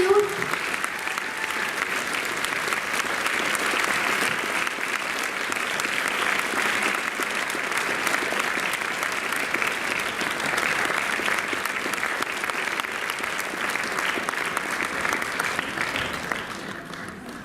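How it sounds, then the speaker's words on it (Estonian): Sustained applause from a large audience at a children's dance club performance, steady and dense throughout, with a faint voice briefly at the start and the clapping thinning slightly at the end. "Teeme suure aplausi Erikale."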